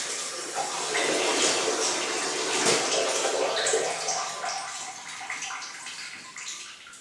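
Water streams steadily from a filtered-water faucet on a mixer tap, a bright splashing rush that is loud at first and gradually eases toward the end.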